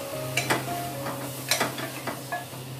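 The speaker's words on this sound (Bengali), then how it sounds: "এবারে লবণ আর হলুদ দিয়ে আলুটা খুব ভালো করে কষিয়ে নেব।" Potatoes being sautéed with salt and turmeric in a pan, a low sizzle under a handful of sharp spatula scrapes and clinks against the metal, spaced irregularly.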